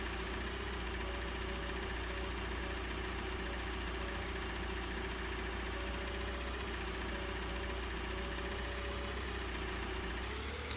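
Scorpion loader tractor engine idling in Farming Simulator 19, a steady continuous drone that holds even throughout.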